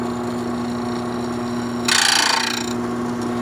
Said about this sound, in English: So you hear that distinctive noise right there? That's the burrs touching.